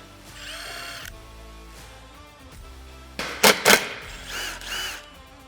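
A power driver whirs in short bursts as screws are backed out of the bumper cover on a CFMoto UForce 1000, with a brief opening run and then louder clustered buzzes and clicks.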